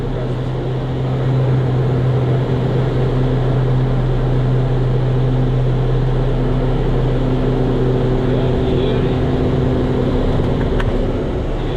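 Inside a Cessna Turbo aircraft landing on a mountain-area runway after an RNAV approach, a loud, steady engine and propeller drone fills the cabin for about twelve seconds, with a low hum throughout and no clear touchdown thump.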